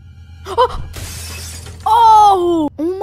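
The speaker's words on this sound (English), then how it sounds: "someone just smashed my windows" Car windows smashing in the Roblox horror game Butchery: a sharp burst of shattering glass with scattered debris, loud and close, followed by a high sustained tone.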